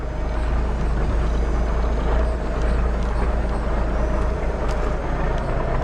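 Heavy trucks roll past close by, a loud, steady low rumble with a hiss of engine and road noise that never lets up, and no voices over it.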